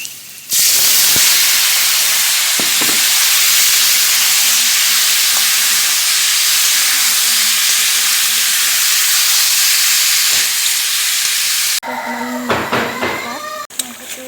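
Chicken meat frying in a pan for a home-style local chicken curry with pumpkin, giving a loud, steady, close sizzle and hiss that runs almost the whole time, with a voice briefly talking toward the end.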